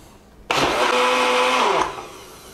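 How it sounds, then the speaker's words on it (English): A blender whirs loud and steady for about a second and a half, mixing protein pancake batter, then spins down and stops, with no talk over it. "So we blend this all up."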